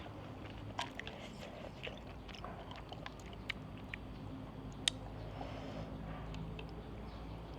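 Someone eats cockles and paddy snails, chewing close to the mic with faint, scattered crunchy bites and wet mouth sounds over a low background hum, with no talk.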